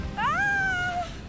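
One clear, drawn-out cat meow from the Hogwarts Legacy video game, rising then slowly falling in pitch and heard alone over faint background ambience.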